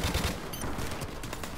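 Bursts of automatic gunfire from a teammate spraying in a tactical shooter match, a dense rapid volley at moderate level with a few sharper cracks near the start.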